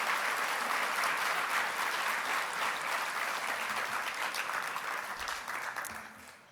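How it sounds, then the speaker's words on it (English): Audience applause at a conference plenary honoring a competition-winning organization, a dense steady wash of many hands clapping at full strength that gradually thins and fades toward the end, with no voices over it. "So can we give that organization a round of applause?"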